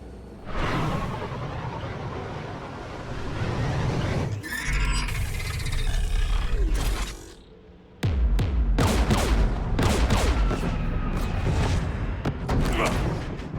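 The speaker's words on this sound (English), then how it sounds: "We're taking fire." Combat in Mass Effect 3 on Rannoch, with whooshes, booms and bursts of gunfire under a music bed, a quieter lull midway, then dense sharp shots and impacts crowding the second half.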